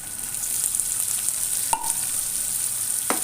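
Chopped onion sizzles in oil in a pan while lasooni palak, a garlicky spinach dish, is being made: a steady, close frying hiss with a couple of faint stirring clinks and no talking.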